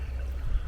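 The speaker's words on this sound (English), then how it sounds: "slow-moving creek, man-made, but still kind of cool to look at. It's got the sound." Slow-moving water flowing along a man-made creek in a city park in springtime, a soft continuous low wash and trickle, fairly near and steady throughout.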